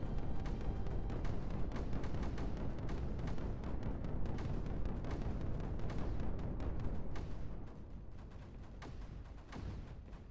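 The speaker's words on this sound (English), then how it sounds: "Everything is exploding now." Dense, continuous explosions from the video game Creeper World 4 pile up in a loud, crackling barrage of overlapping booms that eases slightly near the end.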